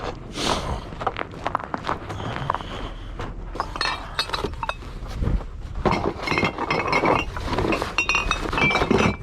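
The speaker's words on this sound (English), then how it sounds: "A lot of glass out of that one." Glass bottles and jars clink and rattle inside a trash bag picked through in an alley, repeated sharp chinks mixed with rustling plastic and shuffling, close by throughout.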